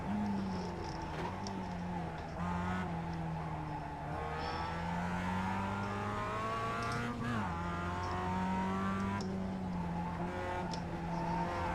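A race car engine in the iRacing simulator drones and revs continuously near the rev limit, pitch rising and dropping with gear shifts, with no talking.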